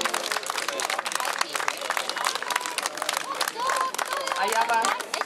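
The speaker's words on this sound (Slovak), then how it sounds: "Ešte raz veľký potlesk" Audience applause for the folk singing group Blavanka at an outdoor maypole-raising celebration, dense steady clapping with crowd murmur throughout.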